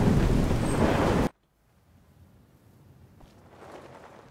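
A thunderstorm with rain in Skyrim starts as a loud, dense rumble of thunder over pouring rain, cuts off abruptly, and leaves only a faint, muffled patter that slowly builds again.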